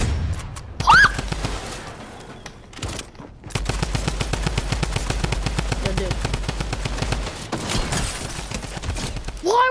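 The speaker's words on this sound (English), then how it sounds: "drum gun, yes! Lovely! One of the best guns in the game." Drum gun in Fortnite firing long rapid automatic bursts, loud and dense, with a few other game sounds before and short gaps between strings of shots.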